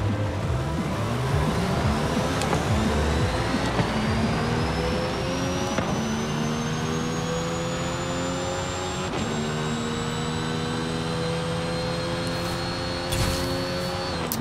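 Mercedes-AMG One hypercar with 1300 horsepower accelerating hard in race mode in Forza Horizon 5, its engine note climbing steadily through several upshifts, each gear change briefly dropping the pitch, loud and continuous with no talking.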